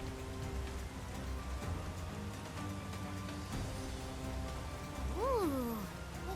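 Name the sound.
rain pouring in a video game (Persona 5 Strikers)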